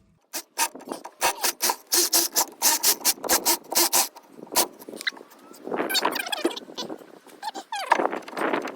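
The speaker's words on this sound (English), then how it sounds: "These Makita jackhammers are like lifesavers." A Makita electric jackhammer chisels rust in a rapid run of short, loud rattling bursts, then gives way to quieter, irregular scraping and clattering.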